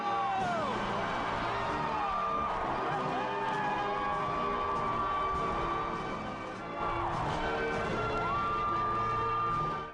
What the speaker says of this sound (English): their father was announced and the crowd went wild